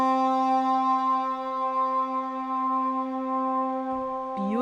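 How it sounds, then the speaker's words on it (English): A sustained, soft synth string pad set to a cello patch with lengthened release, holding a steady chord with a warm low tone, smooth and even, shifting slightly right at the end. "I found that soft string pad right here and I elongated the release."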